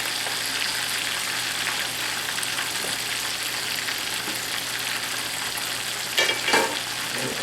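Southern-style fried chicken sizzling in a pan of hot oil, giving a steady bright crackle throughout with a couple of louder spits and bursts near the end and no talking over it.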